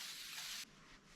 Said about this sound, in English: A little spray of lubricant on a rag.